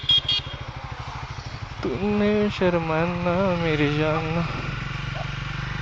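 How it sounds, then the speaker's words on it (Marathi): A Triumph Thruxton 400 motorcycle runs with a steady, close engine drone throughout, while a man sings over it in the middle. "थ्रक्स्टन बाईक"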